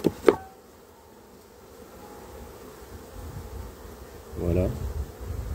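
Honey bees buzzing around an opened hive during a frame inspection, a soft continuous hum with a louder close buzz passing near, after two sharp knocks at the start.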